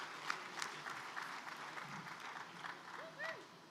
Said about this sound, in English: Let's give a round of applause for John